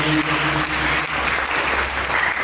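Church congregation applauding together, a dense, steady wash of clapping hands that stays loud and even throughout, with a low hum beneath.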